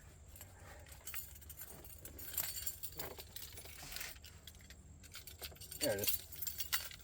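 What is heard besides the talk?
keys jangling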